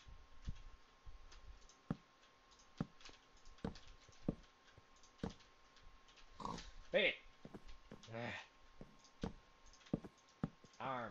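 Pigs oinking in the video game Minecraft, short grunts over a steady ticking of game clicks, with someone talking over the sounds.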